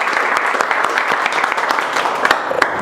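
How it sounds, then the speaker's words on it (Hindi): Audience applause opening a new hands-on class on phone board repair (CPU, eMMC, power sections), with a dense, steady clatter of many hands clapping close by for the whole stretch and a few louder individual claps near the end. "हम एक बार शुरुआत करेंगे जोरदार ताली से"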